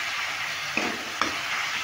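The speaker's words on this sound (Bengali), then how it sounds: "মিডিয়াম আঁচেই এটা করে নিতে হবে মশলাটা কষানোর সময়" Masala spice paste fries over medium heat in a pan with a steady sizzle, while a spoon scrapes and stirs it twice in quick strokes.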